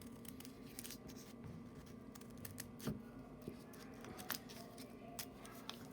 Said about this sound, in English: Then you're just going to continuously cut triangles.